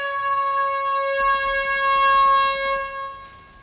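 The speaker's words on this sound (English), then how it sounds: "there's an air horn" A sustained air horn blast holds one steady, bright, multi-toned pitch for nearly four seconds, loud and close, easing slightly at the end.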